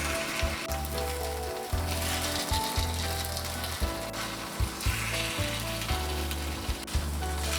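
Takoyaki balls sizzle and crackle steadily in hot oil on a griddle as they are turned from the side, a close, continuous frying hiss with soft bursts and no voices.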